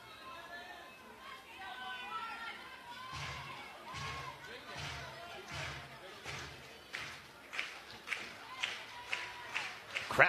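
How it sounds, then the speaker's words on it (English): Softball crowd at a college game clapping together in unison, rhythmic claps building in strength over background crowd chatter. "Crowd claps in unison."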